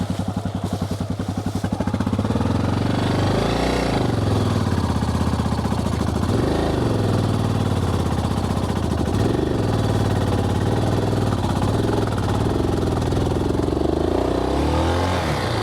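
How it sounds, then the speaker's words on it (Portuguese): A 1988 Yamaha Ténéré motorcycle engine runs steadily and close in a flooded canyon, its rear sunk in, holding a loud, even idle for the whole stretch with a few brief rises in revs. "Vou ter que desligar a moto."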